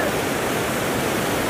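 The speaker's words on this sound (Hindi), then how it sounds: "आप देख सकते हैं पानी का कितना ज़्यादा शोर है और कितना खूबसूरत मंजर है" Roaring water at the Head Marala headworks in Sialkot, a loud, dense, unbroken rush like a waterfall that holds steady throughout, with no voices over it.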